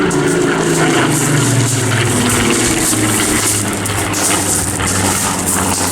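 A Rolls-Royce-engined Spitfire flies at the Eastbourne Airshow 2024, its piston engine a loud, sustained roar with a steady drone and wind noise throughout.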